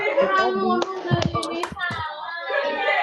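A group of teachers in an online training session claps a short two-beat pattern: a few sharp, close hand claps bunched in the middle, surrounded and partly overlapped by talking voices.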